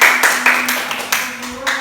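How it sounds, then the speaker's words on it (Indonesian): An elementary school class claps for a classmate's answer in a social studies lesson, a few loud, uneven rounds of clapping close by, with a steady tone humming underneath. "coba berikan tepuk tangan untuk temannya"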